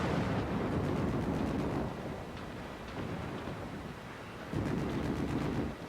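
A missile explosion in MechWarrior 5: Mercenaries, heard as a broad, rumbling low roar that swells, eases off for a stretch, then surges again. The blast noise stays loud and continuous throughout, with no voices over it.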